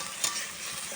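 Prawns and vegetables fry in a pan with a close, steady sizzling hiss and one faint stirring tick, lasting about a second.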